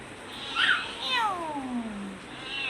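A house cat meows indoors, a couple of rising and falling calls followed by a longer drawn-out cry, fairly close, with faint voices nearby.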